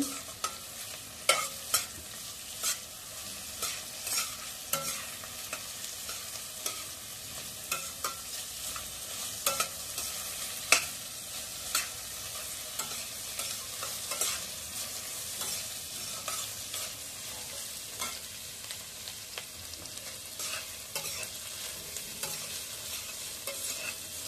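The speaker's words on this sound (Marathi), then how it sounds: "आता शिमला मिरची टाकली, तिलाही 1 मिनिट परतवायची." Capsicum and onions are stir-fried in a pan for a soybean chilli, giving a steady close sizzle broken by frequent sharp scrapes and clicks from stirring, with no talking.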